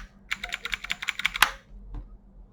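An Everest Rampage KB R18 mechanical keyboard clatters through a quick run of about a dozen crisp key presses, close and bright, ending with a sharper final click and then a single soft tap.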